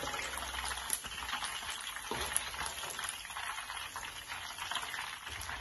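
Chicken frying in hot oil for biryani, a close, steady crackling sizzle with scattered sharper pops throughout and no talking.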